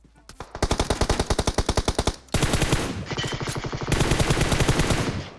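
Loud, rapid automatic gunfire from a video game shooter, several long bursts of closely spaced shots in fast rhythmic succession with hardly any pause, heard close and without talk.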